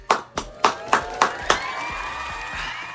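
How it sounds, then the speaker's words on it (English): An audience claps in a brief round of applause, about six sharp, evenly spaced claps close by that fade into a lingering ringing tail. "let's give yourself a round of applause."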